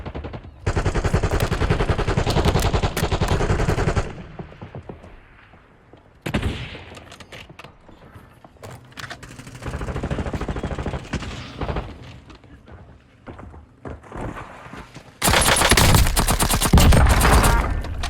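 Rapid automatic fire from the nail gun in the video game Warzone, loud sustained bursts separated by quieter gaps, with a final heavy barrage at the end.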